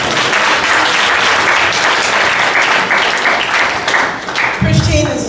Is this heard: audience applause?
yes